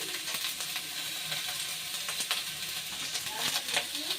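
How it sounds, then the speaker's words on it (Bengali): Eggplant, onion and garlic fry together in a pan, giving a steady close sizzle broken by light clinks and scrapes of stirring. "এবার বেগুন পেঁয়াজ রসুন একসাথে একটু ভেজে নেব"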